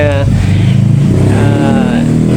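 Kawasaki ZX10R fitted with an Italian-made SC Project CRT exhaust and titanium mid-pipe, its engine idling and revving with a loud, steady low rumble close by, talk mixed in over it.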